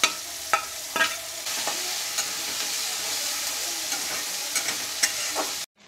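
Onions and curry leaves frying in hot oil make a steady crackling sizzle, with a few sharp spoon knocks against the pan, and the sound cuts off abruptly at the end.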